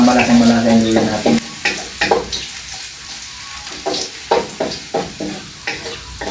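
Chopped ginger sizzles in hot oil in a pan as tinola with native chicken is started, loud frying hiss with repeated scraping stir strokes of a spatula, close up; a voice briefly speaks at the start.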